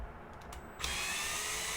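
A power drill spins a screw extractor to back out a stuck screw, starting with faint light clicks before the motor kicks in at a steady, loud, close whir that holds to the end.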